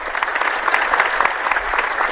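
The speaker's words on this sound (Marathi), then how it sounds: "सर्वात प्रथम माझ्या अगोदरच्या दोन्ही वक्त्यांसाठी आपण सगळ्या जणांनी जोरदार अशा टाळ्या मारल्या पाहिजे" An audience applauds the two previous speakers with steady, dense clapping that holds at an even level throughout, with no voices over it.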